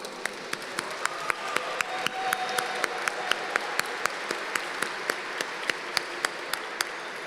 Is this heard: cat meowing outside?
no